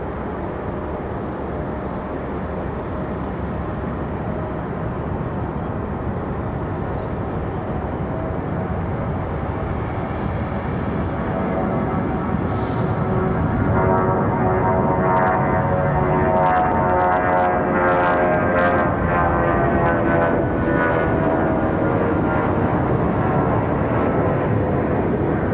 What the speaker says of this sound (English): Nice sounding departure there for United